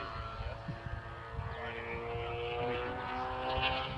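A 92-inch Aeroplus Edge model airplane in flight, its propeller engine droning steadily at a moderate distance and rising slightly toward the end, with faint voices nearby.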